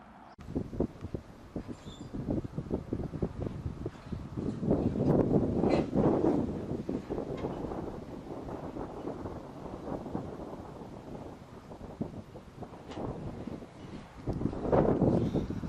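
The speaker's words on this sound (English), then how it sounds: "this wind is really problematic for me" Gusty wind outdoors on a long-distance bicycle touring trip, rumbling and buffeting the microphone in uneven surges that swell and fade, fairly loud, with no talking.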